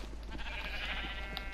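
A sheep in the Minecraft video game gives a drawn-out bleat over a low steady hum, clear and fairly close, with no talking.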